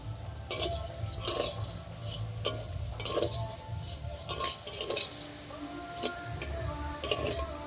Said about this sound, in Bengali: ভালো করে নেড়ে একটু লাল লাল করে ভেজে নেব। আমি কিছুটা কিশমিশ নিয়েছি, একই সাথে এর মধ্যে দিয়ে দেবো ভাজার জন্য।